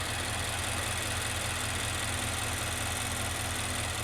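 Nissan Titan pickup engine idling at operating temperature, a steady rumbling drone with a continuous low pulse, close and even throughout with no voices.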